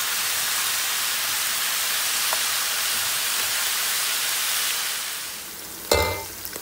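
Cooking oil sizzles loudly and steadily in a pan while country chicken curry with potatoes is made. The hiss is constant, dips briefly near the end, then a sharp stirring clatter cuts in. No talk is heard.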